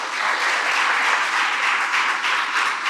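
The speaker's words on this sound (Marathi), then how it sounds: "एकदा मुलांनो ह्या सगळ्यांसाठी आपण टाळ्या वाजवायला पाहिजे." Children clap together for their supporters at the inauguration of a children's home's new building, a continuous, even burst of many small hands that carries on alone throughout.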